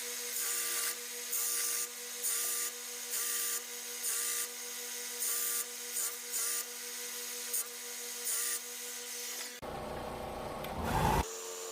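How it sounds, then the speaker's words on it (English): A belt sander with a coarse abrasive belt grinding a metal crossbow rail, producing a close, steady whine interrupted by regular short bursts of harsher grinding as the workpiece is pressed on, then a louder rough rasp near the end. "I ended up just using my belt sander. I have really abrasive belts."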